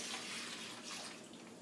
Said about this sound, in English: Take it and you pour it in the bag